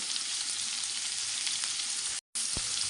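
Onions frying in a pan as the base of a chicken gravy, a steady broadband sizzle that runs loud and continuous, briefly cuts out, then returns with a short stirring scrape.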